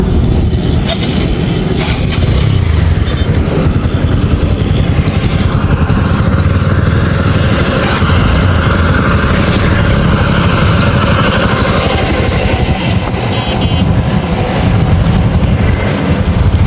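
A motorcycle ridden on a road, its engine droning loud and steady throughout with rising and falling revs and wind rush, no voices.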